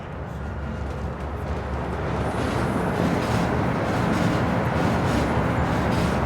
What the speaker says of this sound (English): Noisy trains.